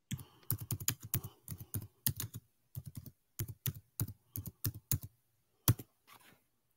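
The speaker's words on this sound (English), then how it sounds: "I'm just typing." Rapid clicking keystrokes on a computer keyboard come in uneven bursts with short pauses between runs, close and clear with no voices over them.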